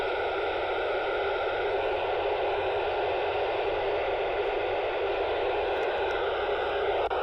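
Radio static during a satellite amateur radio contact makes a steady, even hiss of white noise that runs without a break, with a few faint clicks and no voices.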